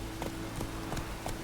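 Roach the horse walks in The Witcher III, her hooves landing in an even clip-clop of four close, clear steps over a low steady game ambience.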